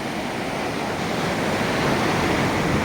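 Sea waves rushing in over feet at a beach: a loud, steady, close roar of surf and wash mixed with wind noise, unbroken for the whole stretch and without any talking.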